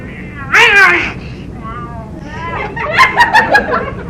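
A person imitates a cat's meow twice, drawn-out mewing calls followed by a burst of playful, laughing meows, close and clear.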